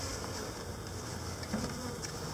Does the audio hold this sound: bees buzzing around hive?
yes